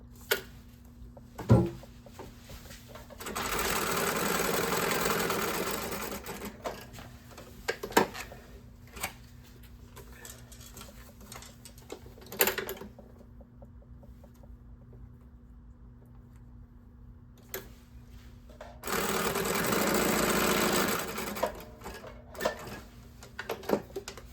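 Sewing machine stitching paper playing cards in a craft project, heard as two steady mechanical runs of a few seconds each, separated by quieter handling noises and small clicks, fairly close and with no talking.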